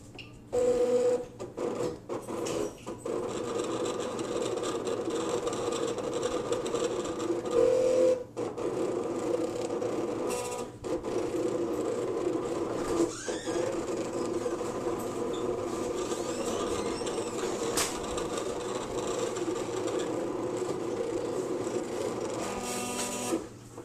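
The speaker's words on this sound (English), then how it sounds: "let me go ahead and cut the base, which is just the pumpkin key" A Cricut cutting machine slicing a pumpkin base out of cardstock, heard as a steady mechanical whir with rhythmic motor buzzing and brief carriage shifts, running continuously and close by.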